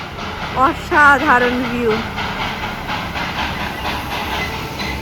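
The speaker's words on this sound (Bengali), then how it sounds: "আরেক দিক থেকে আসছে এই টয় ট্রেন" Darjeeling toy train passing a roadside hotel, a low steady rolling rumble with hiss beneath a person speaking briefly near the start.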